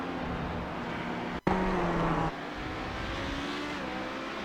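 A GTP race car engine in a sim racing game at Circuit of The Americas, a loud, steady high-pitched drone with a sudden brief cut and then a snap back into a rising, shifting whine as the car goes in too deep.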